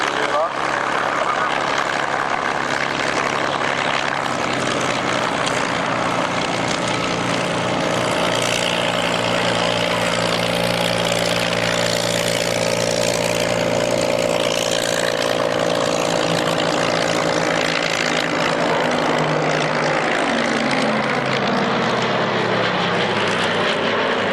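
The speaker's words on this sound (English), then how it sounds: "Vern Rayburn's Constellation" A Lockheed Constellation propeller airliner at the Duxford airshow roars loudly and continuously with a droning multi-engine propeller tone that rises and shifts as it passes close by.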